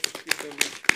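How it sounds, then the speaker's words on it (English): A few people clap for a professor after a mixed-reality demonstration, sparse, uneven claps with short gaps between them, with voices talking alongside. "Please applause for Prof."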